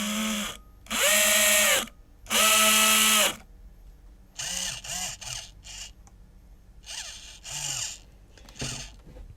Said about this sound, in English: you can hear that the motor drive no longer has that terrible whine